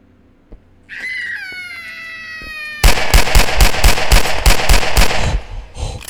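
Inside a home invasion video game, a high wailing tone rings out briefly before a rapid, loud burst of about eight gunshots fires in quick succession.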